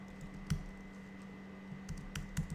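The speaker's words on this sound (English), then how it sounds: "Let me type it in." Keys tapped on a computer keyboard, quiet and close: a few soft clicks at uneven spacing over a steady low electrical hum.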